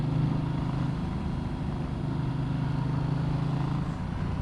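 A Ducati Multistrada 1200 motorcycle with 160 brake horsepower climbs a steep hill at slow speed, its engine giving a steady, even, low drone throughout with no voices.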